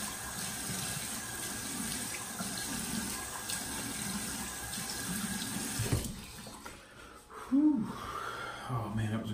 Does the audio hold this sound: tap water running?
yes